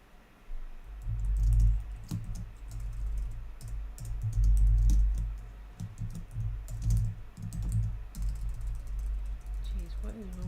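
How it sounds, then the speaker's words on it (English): Rapid clattering keystrokes on a computer keyboard, irregular bursts of clicks close up, with low rumbling background and a voice heard faintly underneath. "what is wrong with my typing?"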